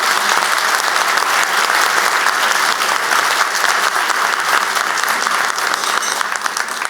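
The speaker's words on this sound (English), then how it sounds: "let's give them a round of applause" A crowd at a mayoral event with Atlanta Mayor Andre Dickens gives sustained, loud applause for teachers, a dense unbroken wash of clapping lasting several seconds with no speech over it.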